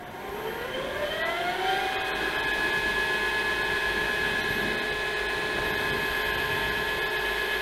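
A wood lathe motor spins up with a rising whine, then settles into a steady, even tonal hum at 1500 RPM, with no talking over it.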